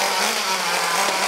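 Close, continuous high-pitched whine of a Traxxas Slash Nitro 2WD RC car's nitro engine being revved, loud and steady over the short stretch with no talking.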